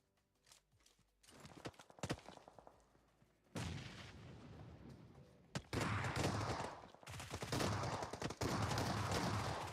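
Gunshots in a battle royale video game tournament, sharp bursts of close gunfire that start sparse, then turn into loud, dense volleys with rapid clattering shots, with no talk over them.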